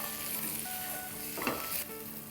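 Tomatoes with half a teaspoon of salt and Kashmiri red chilli being stirred in a hot pan, close sizzling with a brief scraping stir partway through, no voices.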